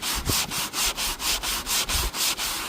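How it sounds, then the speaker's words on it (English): Sandpaper rubbed by hand over real wood edge banding on Baltic birch plywood cabinet work, about ten even back-and-forth strokes in quick steady rhythm, close and clear with no talking. "basically you're just going to take your sandpaper"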